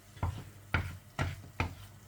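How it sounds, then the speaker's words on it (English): Poaching milk whisked vigorously into a flour and oil roux for a budget fish pie, four or five rhythmic whisk strokes scraping the pan at a steady pace, close and fairly quiet. "Whisking vigorously as we go."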